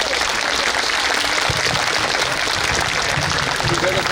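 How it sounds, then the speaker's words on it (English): Broad audience applause after a stage performance, a continuous dense patter of clapping from a crowd, steady and fairly loud across the whole stretch. "A huge round of applause."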